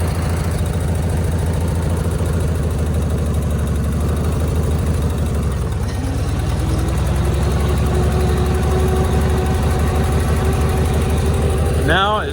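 A car engine runs steadily nearby with a deep, even rumble that shifts slightly in pitch partway through, continuing without pause to the end.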